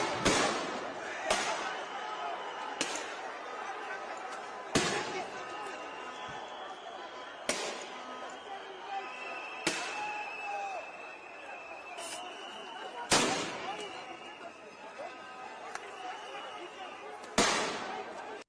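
Sharp gunshots crack out one at a time at irregular intervals in news footage of unrest, moderately loud over a constant background of crowd noise.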